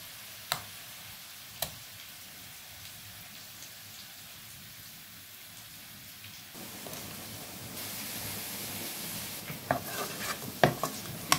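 Shrimp frying in a pan for a fish curry produce a faint, steady crackle. A few sharp ticks stand out early, and the spattering grows busier and louder toward the end, with no speech.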